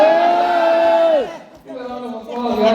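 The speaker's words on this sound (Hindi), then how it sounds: "चलो give yourself a round of applause" A large crowd at a public event cheers and whoops loudly in sustained, rising voices, with a brief dip before the shouting swells again.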